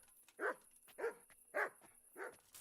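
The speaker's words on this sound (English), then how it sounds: "Carry on barking at nothing and I'll make sausages out of you." A dog barks four times at a steady pace inside the medieval game Kingdom Come: Deliverance, each short, moderately loud bark separated by quiet gaps.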